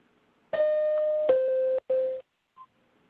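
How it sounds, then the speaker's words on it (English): A double electronic warning tone sounds on a court oral-argument phone call to signal that allotted time has expired: two clear beeps in close succession, the first longer, followed by a faint brief blip. "and a double tone that sounds like this"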